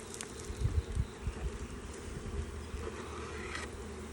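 Honeybees drone steadily at the hive as they bring in maple pollen, a soft, close hum with a few low bumps and rustles early on and no talk.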